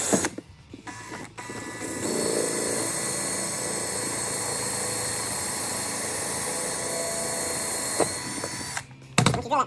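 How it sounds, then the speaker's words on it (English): Power drill boring a hole through a metal collar while building a Powerglide transmission dump valve, a steady loud whirring grind that holds for several seconds, with brief clicks and pauses at the start and end. "Once you drill that collar hole."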